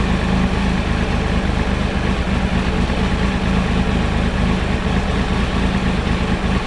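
A Triumph Tiger 955i motorcycle engine with a seeping cylinder head gasket idles steadily, a constant close rumble with no change in pace and no voices.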